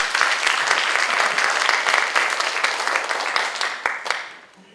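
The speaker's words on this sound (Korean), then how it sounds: "박수 한번 주세요" Studio audience at a Korean talk show claps steadily as a volunteer comes up on stage, a dense, fairly loud burst of applause with some sharper individual claps that tapers off near the end.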